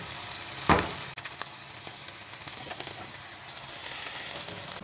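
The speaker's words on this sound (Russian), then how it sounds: "А в этой сковороде я буду обжаривать морковь." Carrots sizzle and crackle in a hot pan, with a brief stirring clatter near the start and a steady frying hiss throughout.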